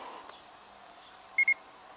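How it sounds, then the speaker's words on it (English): A UDI U31W beginner quadcopter's transmitter sounds its low-signal warning during a Wi-Fi FPV flight: two short, high electronic beeps in quick succession over quiet background hiss. "I got a beep that it was running out of signal"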